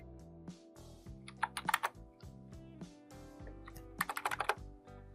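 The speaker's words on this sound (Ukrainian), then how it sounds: "З клавіатури вводимо значення 180." Typing on a computer keyboard, two close bursts of rapid clicking keys separated by a short pause, crisp and alone without talking.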